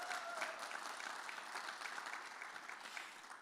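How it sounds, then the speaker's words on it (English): An audience at an education talk applauds an honoree recognized as one of 265 in California, steady dense clapping that stays fairly soft and even throughout. "So let's give Grigori a round of applause."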